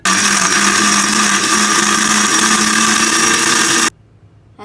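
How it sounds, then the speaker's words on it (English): An electric mixer grinder whirs loudly as it grinds tomato chutney with added water, a steady high-pitched motor roar running without pause for nearly four seconds before cutting off abruptly into near silence. "Now let me start grinding the chutney."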